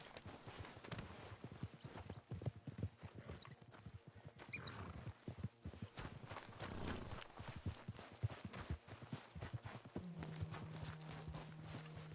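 Horse hooves clip-clopping in a PS4 video game, a steady close trot of hoofbeats across the whole stretch, with a low hum joining near the end.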